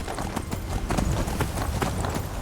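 Horse hooves clip-clop in the video game Skyrim, a quick steady run of close, hard clopping beats over a soft background.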